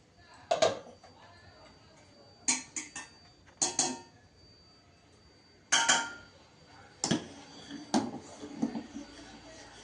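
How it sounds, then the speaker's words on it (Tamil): Cotton seed milk with soaked raw rice and grated coconut being stirred in a pot, giving scattered metallic scrapes and clinks of a spoon against the pot in short bursts, with quiet pauses between them. "இப்படி கிண்டிக்கிட்டே இருக்கணும்."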